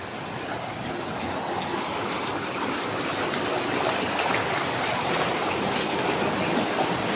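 Stream water flows and rushes steadily outdoors in a natural setting, a constant broadband wash of moderate loudness with no voices.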